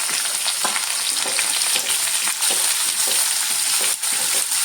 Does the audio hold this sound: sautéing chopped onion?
yes